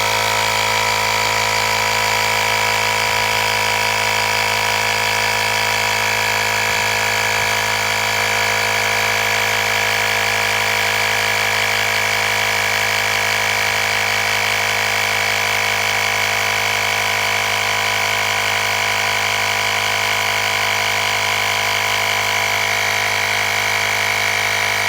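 A 70mai portable air compressor inflating a bike tyre, running as a loud, constant mechanical buzz and hum that holds steady without a break.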